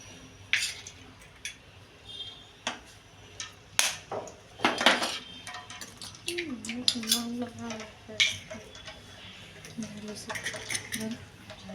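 Two eggs being cracked and beaten in a bowl beside a pan of heating oil, with sharp clinks and taps of metal on crockery scattered irregularly, plus a brief voice partway through.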